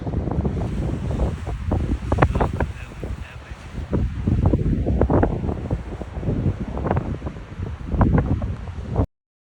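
Strong wind buffets the microphone in steady gusts at Surprise Canyon in Death Valley's snowy Panamint City area, a loud continuous roar with rustling swells and no talk.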